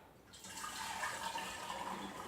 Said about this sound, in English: then I'm going to pour it into the measuring cup and bottle the rest